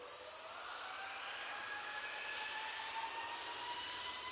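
Jet aircraft at Manchester Airport, a Cathay airliner landing and an air tanker taking off, produce a faint, distant, steady roar that swells slightly and holds. No one speaks.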